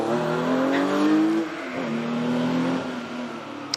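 A Porsche race car with a lightweight 3-litre flat-six revs and accelerates hard at a Prescott hillclimb, its rising engine note steady and fairly close before easing slightly, with a faint tire squeal and no talk.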